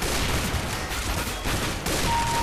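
Gunfire from the video game Counter-Strike: Global Offensive, a dense, loud burst of shots and rumbling blasts filling the whole stretch without pause.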